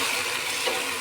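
Eggplant sizzling in hot oil with salt and turmeric while being stirred, a close, continuous bright crackle with faint scraping through the short moment.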